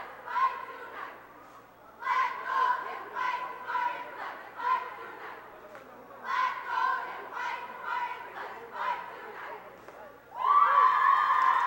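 Spartans cheerleaders chant and cheer in rhythmic bursts at a high school basketball game, a gym crowd joining loudly in two long rounds before a sustained louder shout at the end.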